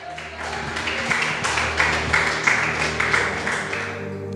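A church congregation applauding, a steady patter of claps with rhythmic accents under sustained music, moderately loud and spread through the room.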